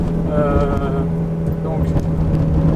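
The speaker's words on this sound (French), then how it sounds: "là, voilà, les vitesses passent plus rapidement" A Ferrari 360 Challenge Stradale engine with reprogrammed F1 gearbox drones steadily and loudly from inside the car, its pitch rising and then dropping around a quick gear change, while someone talks over it.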